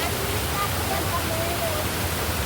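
A waterfall at Kallerimula in Vellur panchayat, Kerala, gives a dense, steady roar of falling water, loud and unbroken for the whole stretch with no other sounds on top.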